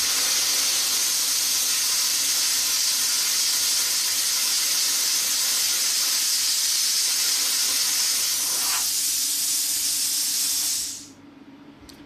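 A plasma cutter at 40 amps blowing rust off metal with a steady, loud, hissing blast of air that runs for about ten seconds and then cuts off, leaving a low hum.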